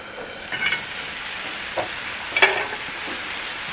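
Mushroom gravy cooking under a lid on a high flame, a quiet steady simmering hiss with a few soft clinks and taps scattered through.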